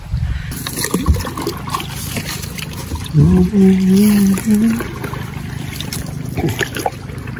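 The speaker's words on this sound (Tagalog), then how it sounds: "Lakas ng agos." A strong river current rushes in a steady, broad watery wash, with a person speaking briefly over it in the middle.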